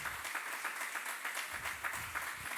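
A church congregation breaks into lively applause, many hands clapping together in a dense, continuous patter that holds steady without voices.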